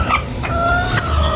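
Chickens cluck steadily nearby in a busy, continuous farmyard chatter.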